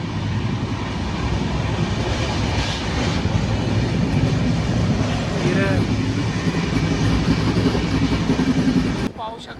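Steady rumbling and rattling of a moving train carriage, a constant mechanical roar heard from inside, with faint voices blended into the background.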